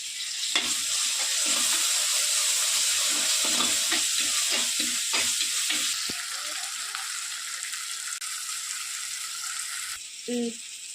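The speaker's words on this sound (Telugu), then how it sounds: "అల్లం వెల్లుల్లి పేస్ట్ ఒక 2 స్పూన్లు అయితే వేస్తా ఉన్నాను. ఇంకా బాగా అయితే కలుపుకున్నాం." Ginger garlic paste sizzles in a hot pan for a village-style prawn curry while being stirred, with rhythmic scraping strokes over a steady fry for several seconds, then continuous sizzling with a brief clink near the end.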